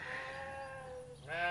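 A weaned lamb gives a single drawn-out, wavering bleat followed by the start of another, close and clear against a quiet farm background.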